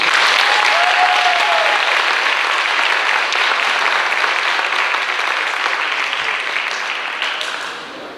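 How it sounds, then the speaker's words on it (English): Sustained applause from a crowd at the Westerville Central high school track banquet fills the room, loud and dense throughout, then slowly thins and fades toward the end. "huge round of applause for these guys."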